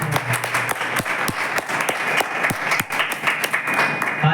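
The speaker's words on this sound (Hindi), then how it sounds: "सब जन ताली बजा के, ताली ऐसे बजाओगे आपके हाथ में।" Church congregation at a Sunday meeting clapping hands together in a steady, rhythmic beat, moderately close, sharp repeated claps over a soft background murmur.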